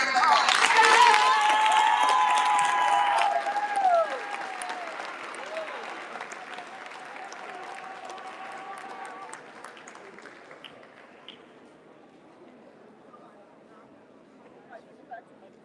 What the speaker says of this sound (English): Go ahead and give all those students a huge round of applause.